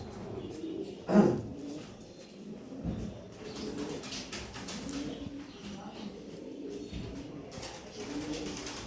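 Ringed racing pigeons cooing in a loft, soft low coos repeating steadily at close range, with one louder burst near the start and someone talking faintly in the background.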